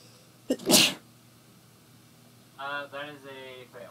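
A single loud, sharp sneeze bursts out near the start, followed by a short stretch of quiet and then a voice speaking briefly.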